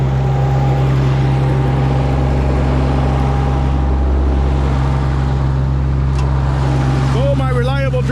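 Steady engine of a tractor idling, loud and close with a constant low drone throughout, a brief whine near the end.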